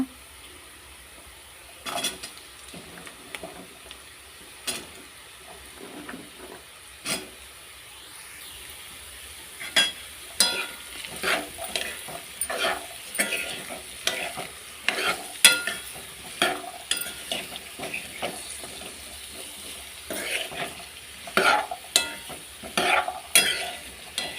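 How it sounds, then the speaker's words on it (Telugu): Carrots fry with onion and green chili in a pan over a soft hiss, quiet at first, then busy spoon stirring and scraping grows louder and denser through the second half. "ఆనియన్ పచ్చిమిర్చి ఫ్రై అయితే అయింది ఫ్రెండ్స్ ఇప్పుడు క్యారెట్ వేసుకుంటా"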